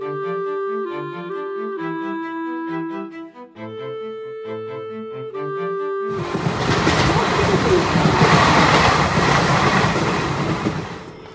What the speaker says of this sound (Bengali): আর আমাদের ট্রেন এখন ঢুকছে নৈহাটি স্টেশনে।